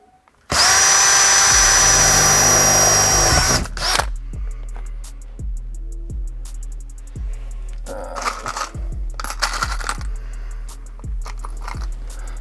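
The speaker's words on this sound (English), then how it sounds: "we're going to drill those pilot holes now," Power drill boring pilot holes to mount a plate, one loud continuous high whine for about three seconds, then quieter rhythmic clicking and short bursts of drilling.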